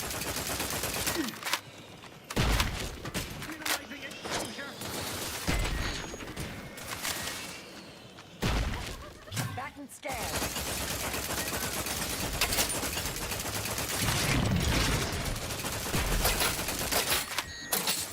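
Steady, dense gunfire in The Outer Worlds 2 video game, rattling bursts and volleys that keep going with hardly a break, loud and close, with brief pauses between barrages.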